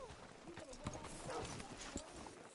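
A horse's hooves clopping faintly in Red Dead Redemption 2, a few soft irregular hoofbeats under a muffled murmur of voices and game ambience.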